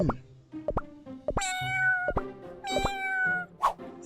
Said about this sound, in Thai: เสียงลูกแมวตัวเล็กๆ ร้องอยู่ริมรั้วหน้าบ้าน